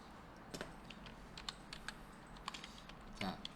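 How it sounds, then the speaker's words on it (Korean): Scattered key clicks on a computer keyboard during a Python coding class, a handful of separate taps with one firmer press near the end, fairly quiet over a low room hum. "탭키 한번 치시면 돼요."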